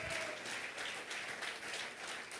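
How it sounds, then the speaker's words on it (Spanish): A church congregation applauds throughout, a dense, even wash of many hands clapping at moderate distance, fairly quiet and with no pause. "a su nombre le podemos dar un aplauso al Señor"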